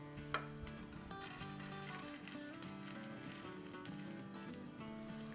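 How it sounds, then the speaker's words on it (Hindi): Edible gum frying in a pan while it puffs up for panjiri, a steady soft sizzle with an occasional light pop, under a faint musical background. "ये देखें इस तरह से पॉपकॉर्न टाइप की हल्की हल्की आवाज़ें आएंगी"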